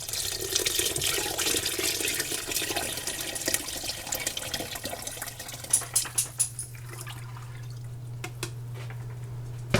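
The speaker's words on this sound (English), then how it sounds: "And now I'm going to add my beef broth." Beef broth poured into a pot for French onion soup makes a continuous liquid splashing and trickle that thins out into scattered drips near the end, close up with no speech.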